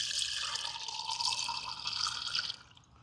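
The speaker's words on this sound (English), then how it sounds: "We're going to just get some water into our glass bottle coming into there." Water from an RV hose pours steadily into a glass bottle, a bright splashing fill heard up close and alone, stopping abruptly near the end.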